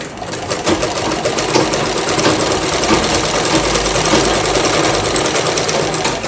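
A foot-treadle sewing machine stitching at a longer stitch length, running loud and close in a continuous, even mechanical chatter with no pauses and no talk.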